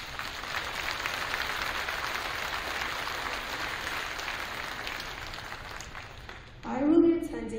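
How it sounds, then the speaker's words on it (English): Audience applause at a graduation ceremony: a steady, broad patter of many hands clapping that holds evenly for several seconds, then a voice speaks briefly near the end as the clapping thins. "Can we please give our community a round of applause?"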